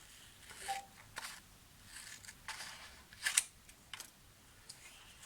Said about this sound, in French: Et j'ai plus qu'à découper ma fiche avec ma paire de ciseaux.